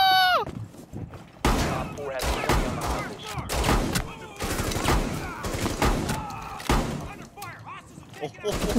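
Gunfire in the video game Rainbow Six Siege during a Terrorist Hunt, loud bursts of rapid shots and thuds recurring throughout, mixed with excited voices of players talking over them.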